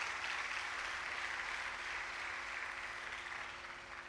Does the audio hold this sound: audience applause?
yes